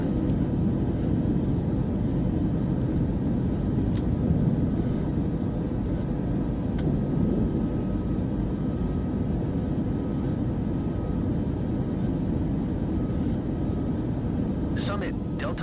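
Airliner engines in Microsoft Flight Simulator 2024 roar steadily with a broad, constant low rumble as the jet climbs after takeoff, with no gaps. Brief cockpit callouts are heard over it.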